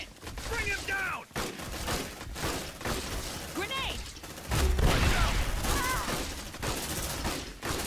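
Heavy gunfire rattles through an Aliens: Dark Descent firefight at the Pharos Spire, rapid overlapping shots and impacts mixed with shrill creature screeches and voices talking throughout.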